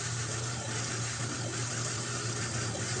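Steady flow of water driven by a 12-volt solar-powered pump, a constant broadband rush with a low motor hum underneath, unbroken and fairly close throughout.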